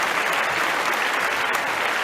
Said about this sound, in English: Let's give the committee and yourselves a round of applause